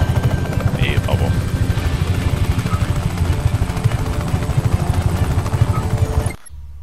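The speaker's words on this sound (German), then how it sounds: "Helikopter." Helicopter in the video game Just Cause 3: a loud, steady rotor thrum with a continuous engine whine throughout, with a voice speaking over it, cutting off abruptly near the end.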